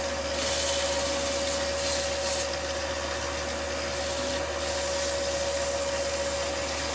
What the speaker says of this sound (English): Get that dry brush just to take out the excess wax.